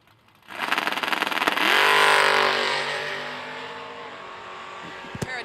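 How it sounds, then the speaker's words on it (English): A drag race launch at an end-of-year event, including a Shake and Bake Camaro, roars off the line as engines rev hard, swell to a loud peak, then fade down the strip. "Eric Anderson in the Shake and Bake Camaro"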